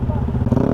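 A Rusi R3 motorcycle engine rumbles close by at a steady rev during a squad ride, with a voice talking over it.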